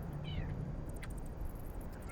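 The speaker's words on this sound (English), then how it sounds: "I have a cat around here somewhere who is concerned that I'm making a cute creature that's not a cat." A house cat meows once, faintly and a bit distant, against a low indoor background hum.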